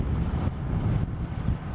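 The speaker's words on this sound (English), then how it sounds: "the wind is horrendous" Strong wind buffets the microphone outdoors on a Scottish island, a steady loud rumbling roar with gusty surges throughout and no voices.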